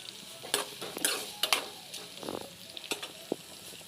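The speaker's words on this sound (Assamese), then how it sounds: "ইয়াতে দিম পিঁয়াজ ধুনীয়াকৈ লৰাই ল'ম" Sliced onions frying in a pot with bay leaf, cardamom and cloves are stirred, giving a soft continuous sizzle broken by irregular close scraping strokes of a spoon against the pot.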